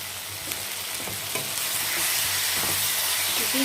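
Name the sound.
onions and tomato sauce sautéing in pan for prawn chilli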